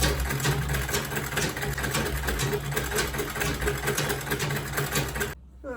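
A sewing machine stitches leather bag handles, a close, rapid, steady mechanical whirr of needle strokes running for about five seconds before stopping abruptly.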